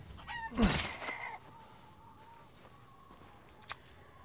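Faint chickens cluck and squawk in a farmyard in the Resident Evil Village video game, one louder burst early on followed by sparse, quieter clucks and a brief peck near the end.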